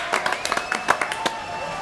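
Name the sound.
studio audience applause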